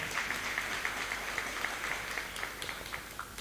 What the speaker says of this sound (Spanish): Duarte Penayo, presidente de la ANEAES, bienvenido también con un fuerte y caluroso aplauso.